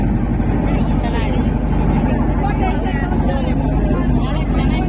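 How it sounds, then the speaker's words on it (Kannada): Motorboat passing on the Ganga river at the ghats in Varanasi, a loud, continuous low engine drone with churning water, steady throughout. "ನೋಡಿ ಇಲ್ಲಿ ಇಲ್ಲೊಂದು ಬೋಟ್ ಹೋಗ್ತದೆ"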